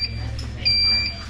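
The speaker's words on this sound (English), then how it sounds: "It's going to beep again, Okay, and then and it's ready." A breakfast cooking machine gives off a high, thin electronic beep, a short chirp followed by a longer sustained tone, close by over a low background hum with some voices in the room.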